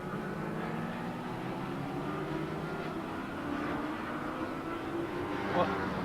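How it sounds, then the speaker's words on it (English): Touring cars in a 1986 production support race sprint side by side uphill, a steady engine roar with shifting tones holding throughout under crowd-level background noise. "they sprint side by side up the hill with Dave Hill having the better line"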